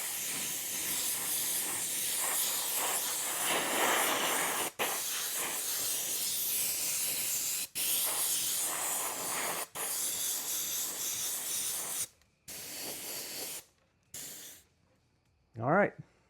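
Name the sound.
airbrush spraying black paint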